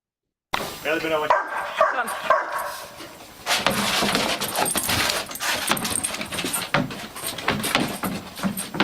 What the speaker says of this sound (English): That dog is having a lovely time. It wants to chase the ball.